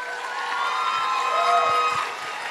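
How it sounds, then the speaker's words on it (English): Crowd noise at a youth talent show, a sustained wash of cheering and high children's shouts that swells in the middle and eases toward the end, with little distinct clapping. "Another round of applause."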